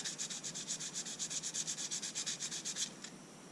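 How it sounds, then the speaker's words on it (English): Emery cloth rubbed back and forth over the brake surface of a Technics RS series reel-to-reel deck, a steady rhythmic rasping of about twenty close strokes that stops near the end, with no talk. "I use a couple different grades of emery cloth. And you have to sand that."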